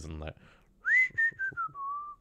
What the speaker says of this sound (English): I say I can whistle now.